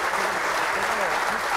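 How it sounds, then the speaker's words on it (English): A live audience claps loudly in a steady, dense burst of applause for a cyclist guest on stage, with faint voices mixed underneath. "how about a big round of applause for Johan Bruyneel"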